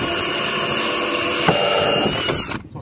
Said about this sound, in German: Dann nehme ich einen Bohrer, passend zu den Nieten,